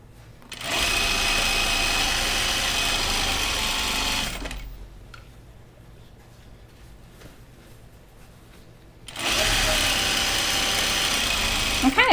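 An industrial sewing machine with a size 14 needle stitches elastic in two loud, close bursts of rapid steady whirring. A quieter pause sits between the bursts.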